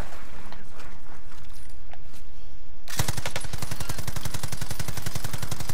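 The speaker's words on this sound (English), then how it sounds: "I'm suppressing fire with the MG." Sustained machine gun suppressing fire in the video game Call of Duty Modern Warfare, a loud, evenly spaced rattle of shots that kicks in abruptly midway and continues to the end, with lighter distant shots before it.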